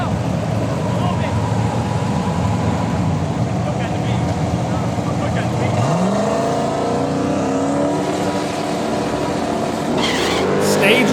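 Heads-up drag race cars, including a 2001 Chevy Camaro, launch hard off the line with loud, sustained engine roar and rising revs, a second pitch sweep climbing as they pull away, while a voice talks over the racket.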